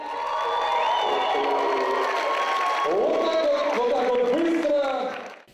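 Fans cheer for their team at a quiz-game final: a loud, sustained crowd roar with high shouts, whoops and excited voices, tailing off at the end.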